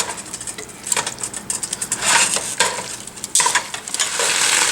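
Chicken bolognese meat sauce is stirred in a pan, with scraping and clinking of a utensil against the pan in uneven bursts over a soft sizzle, close and fairly loud.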